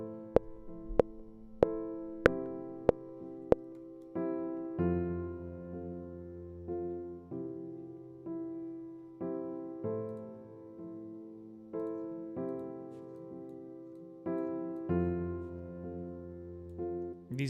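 An atmospheric pad instrument plays with reverb, swelling into sustained chords that repeat in slow pulses and ring out. A few sharp clicks come just before the pad enters.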